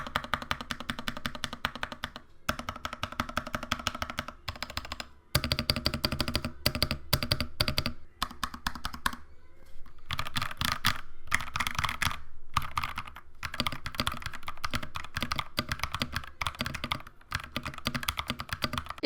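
Rapid typing on a G.SKILL KM250 65% mechanical keyboard, dense close clacking keystrokes in bursts with brief pauses between runs.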